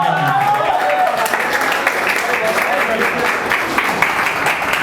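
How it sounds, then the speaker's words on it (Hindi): An audience at a poetry recital breaks into sustained applause, dense and loud clapping from a large crowd running throughout without pause. "तो देखो तालियां बजाई सबने"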